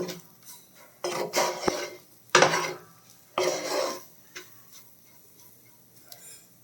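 Spices and black pepper are stirred into chow mein in a pan with a utensil, giving sharp metallic scrapes and clanks in irregular bursts, some loud and close, between quieter gaps. No one speaks.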